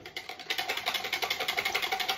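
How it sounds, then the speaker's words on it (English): A whisk beats coconut water and olive oil in a bowl, making rapid, even, rhythmic swishing and ticking strokes, close and moderately loud, with no talking. "I'm gonna give that a whisk around."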